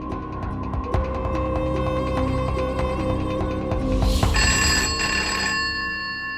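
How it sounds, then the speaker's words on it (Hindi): A telephone rings repeatedly in a home, steady electronic bell tones running throughout over a busy backdrop, with a brighter, sustained ring taking over near the end. "साहब का फोन था"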